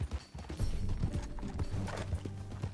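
Horse hooves clip-clop at a steady trot in a Red Dead Redemption 2 ride, with a soft rhythmic beat under faint background game ambience.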